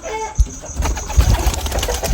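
Pet pigeons in a coop give soft, low cooing murmurs with a few muffled thumps and possible wing flutters, close by and fairly loud, with no talking.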